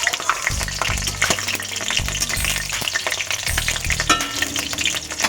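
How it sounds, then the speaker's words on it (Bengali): Green chillies fry in hot oil in a home kitchen, a steady dense sizzle close by with intermittent stirring clatter and scraping throughout, no talk. "তো লঙ্কাটা আমার একটু ভাজা ভাজা মতন হয়ে যায়।"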